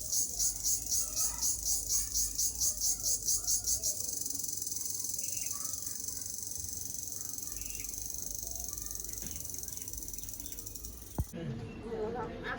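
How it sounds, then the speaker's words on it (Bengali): Crickets chirp loudly and close by, first in a fast pulsing trill of distinct bursts and then in a steady, unbroken high drone, which cuts off abruptly near the end. "এটা কি বলেন তো ঝিঝি পোকার ডাক"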